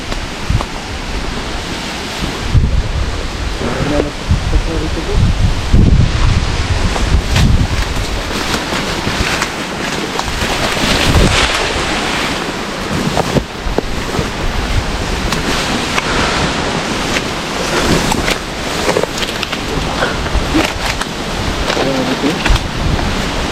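Strong wind roars and buffets the microphone continuously, with gusts rising and falling and a faint rustle of coconut palms under the blasts.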